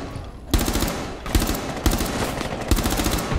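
Rapid automatic gunfire in Rainbow Six Siege rattles out in four loud, close bursts, each a quick string of shots with brief gaps between.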